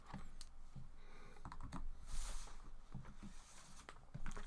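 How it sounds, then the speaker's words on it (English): Paper rustles and scratches at close range as a lecturer works through calculus on vector functions, a faint, uneven patter of small crinkles and taps with no voice over it. "here my paper's rustling"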